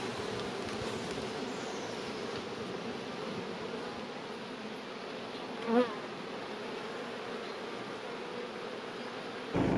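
Honeybees buzz steadily around a hive in July at a full summer colony ready for honey harvest, a dense continuous drone with no talk, briefly punctuated near the end by a closer bee passing.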